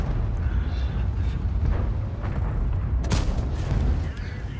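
Tank gun fire in a tank battle video game, a heavy booming blast over rumbling engine noise and dense battle background, with a voice talking at times.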